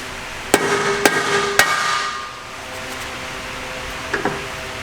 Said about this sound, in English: When in doubt, get a bigger hammer.